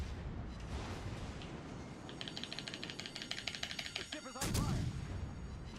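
Naval gun battle in World of Warships Legends: steady rumbling cannon fire and rapid repeated shots over a dense, noisy battle bed, ending in a heavy, loud booming blast.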